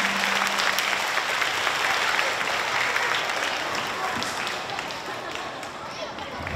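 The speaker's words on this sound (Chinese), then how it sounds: "请来宾掌声示意一下。" An audience of guests and parents at a primary school choir club performance claps steadily and loudly, the applause tapering slightly toward the end, with some voices mixed in.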